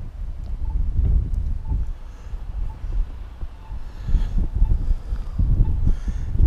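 Gusty wind during a night snowstorm buffeting the microphone in low, uneven surges, rising and falling with no voices.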